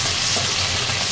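Tomatoes dropped into a pot of beef for a homestyle nilagang baka broth, giving a loud, close, steady sizzle that fills the short moment without voices.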